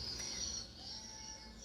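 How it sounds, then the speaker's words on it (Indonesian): Steady high-pitched swiftlet roosting calls repeat continuously at moderate volume, a recorded call played without any talk over it. "settingan volume yang paling disukai oleh burung walet itu tentunya untuk suara inap itu"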